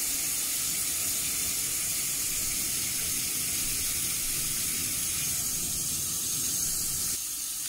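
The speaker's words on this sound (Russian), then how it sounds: "Сейчас мы подольем кипяточку и еще раз попробуем." Boiling water pours steadily from a kettle into a container, a continuous close hiss and rushing splash with a faint steamy sizzle, unbroken for several seconds with no voices.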